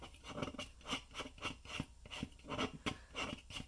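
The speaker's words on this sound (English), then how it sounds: "So keep rotating and shaving it down" A stick of art pastel is rotated and shaved down with a blade, producing a quiet, rhythmic rasping scrape in short repeated strokes, close up and with no talking.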